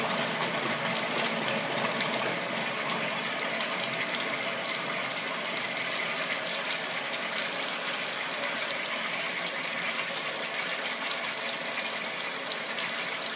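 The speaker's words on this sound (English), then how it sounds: "New filters will always cause sputtering." A water ionizer fitted with new filters sputters and gushes steadily, a continuous hissing rush of water and air at moderate loudness with no voices.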